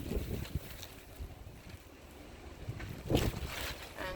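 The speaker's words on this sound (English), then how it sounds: "it is a little bit windy if you guys can hear some wind" Wind gusts buffet the microphone outdoors during at-home bleach dyeing of a tee, a steady low rumble swelling into stronger blasts near the start and again toward the end, with no talking.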